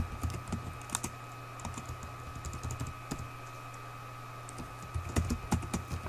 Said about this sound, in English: You're asked to type in the text